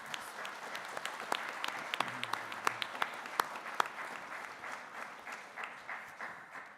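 A college graduation audience applauds in thanks, a broad, steady patter of many hands clapping at moderate distance, rising slightly and then easing off toward the end.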